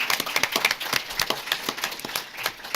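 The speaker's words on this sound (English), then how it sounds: "And now, please give Julie Warren a round of applause." Scattered applause from a modest audience at a panel discussion, with separate claps at an uneven rhythm, fairly near, fading slightly as it goes on.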